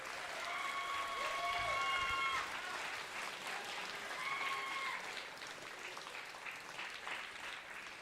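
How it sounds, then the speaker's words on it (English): Audience applause for mentors and coaches at an FTC robotics league tournament, sustained crowd clapping from a large hall at moderate distance, a bit louder at first and then easing, with faint tonal sounds and voices mixed in. "Let's give a huge round of applause."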